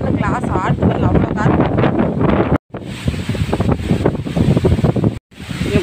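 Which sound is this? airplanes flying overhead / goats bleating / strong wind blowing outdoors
strong wind blowing outdoors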